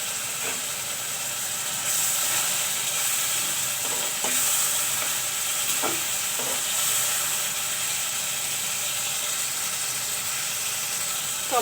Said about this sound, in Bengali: এখন টমেটো দিয়ে দেব।